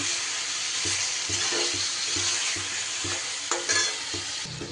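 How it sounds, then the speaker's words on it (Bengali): Vegetables with spice mix stir-fried in a pan, a steady sizzling hiss with regular rhythmic scraping strokes of a spatula close up, no talk. "এই সবজির সাথেই নেড়ে চেড়ে কিন্তু আমি কষিয়ে নেব"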